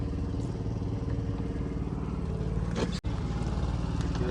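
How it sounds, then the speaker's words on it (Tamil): A fishing boat's engine runs steadily at sea, a loud, continuous droning rumble throughout, with a brief dropout near the end. "ஆனால் இன்ஜின் தானாக ஓடிட்டுருக்கு"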